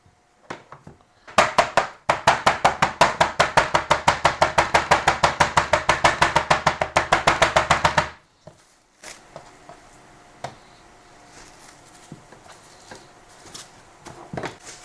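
Plastic-film-covered meat cutlets being pounded flat with about forty rapid, evenly spaced thuds over roughly seven seconds, then a few scattered quieter knocks and rustles.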